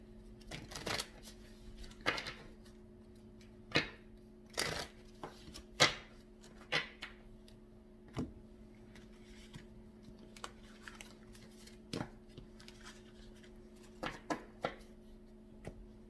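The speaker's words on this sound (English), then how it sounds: "I'm going to shuffle these cards up for the next reading." A deck of tarot cards is shuffled by hand in a quiet room, producing a string of soft, brisk riffling bursts at irregular intervals, close up with no talking.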